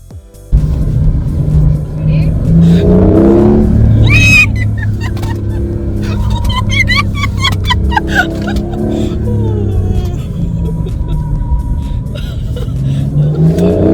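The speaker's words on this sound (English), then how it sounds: "I definitely could tell how powerful this car is, mainly because of the sharpness and how fast it accelerates." A Porsche sports car at a driving centre's track accelerates hard, its engine rising in pitch through revving gear pulls after a sudden start, loud and close with a cabin-like rumble.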